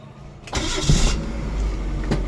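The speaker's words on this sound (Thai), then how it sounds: "ติดเครื่องให้ดูนะครับ" A Mazda 121 car engine cranks briefly and catches, then settles into a steady idle, close by.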